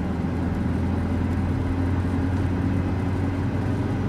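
A car engine in a VR driving game running in third gear hums as a steady, continuous low drone at moderate volume, with no clear pitch change and no talking.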